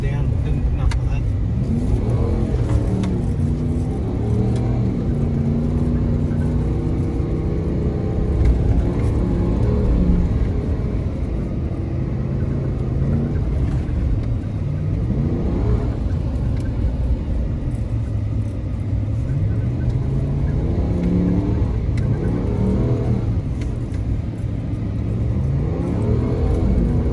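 Ram 1500 pickup engine driving off-road in Australia, a steady low rumble with shifting revs and drivetrain whir throughout, occasional rises in engine pitch, heard under people talking in the cabin.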